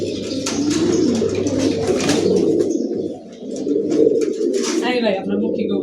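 Pigeons coo steadily at close range in a Khulna pigeon loft, with birds sitting on eggs, and a voice talks intermittently over the continuous cooing.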